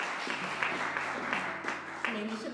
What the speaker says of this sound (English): I'm going to take it as a free clap